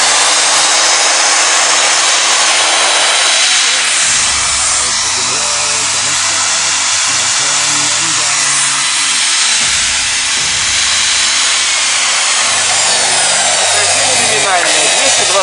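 A Kalibr thickness planer's electric motor runs steadily at full speed with a loud, continuous whine and broadband roar, unbroken for the whole stretch.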